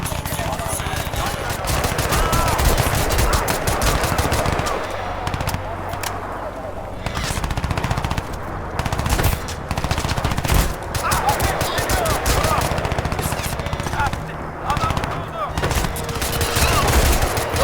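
Gunfire in the shooter game Crysis 2: dense, rapid automatic bursts and heavy shots rattle almost without pause, loud and close, with brief lulls between volleys.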